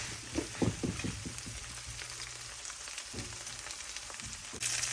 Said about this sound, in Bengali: এগুলিকে এভাবে ভাজা ভাজা করতে হবে।